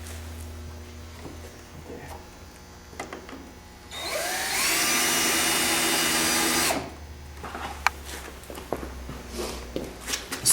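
A power drill drives the supplied screws to mount a light kit on a 1996-up EZGO TXT golf cart, one steady whirring burst of about three seconds standing out from quiet handling noises.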